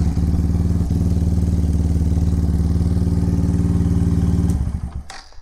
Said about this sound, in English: Now the bike should run in this position.